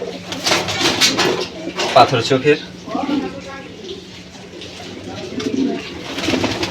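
Racing pigeons coo in a loft, soft throaty calls running under someone speaking nearby, with the birds carrying on through the pauses.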